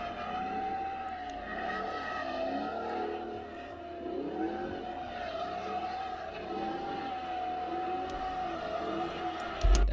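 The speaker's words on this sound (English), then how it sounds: "Looking at the front grille, this is probably a 2023 Camaro" A 2023 Chevrolet Camaro drives at a car meet, its engine a steady, fairly loud drone with slight rises and falls throughout, crowd noise in the background and a sharp burst at the very end.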